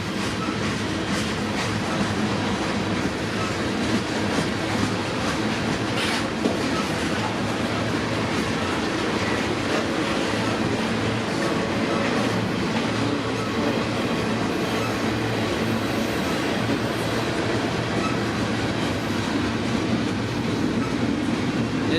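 Freight train hauling auto racks rolls past close by on a smoky day, a steady loud rumble of wagons with faint clickety-clack of wheels over rail joints, continuing without pause.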